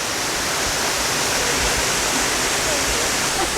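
A waterfall in the Philippines roars as a steady, loud broadband wash of falling water, close and continuous with no break.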